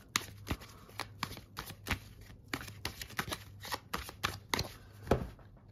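Tarot cards being shuffled by hand, a run of crisp riffling flutters and soft slaps repeating in quick bursts, close and fairly quiet with no talking.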